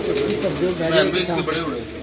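A pigeon coos close by in a soft, rolling series of throaty calls, with speech overlapping much of it.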